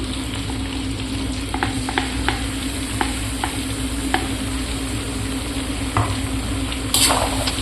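A steady sizzle of chicken frying in onion, ginger and garlic paste, with repeated scrapes and taps of a spoon stirring in a pan, close up, ending with a brief louder hiss.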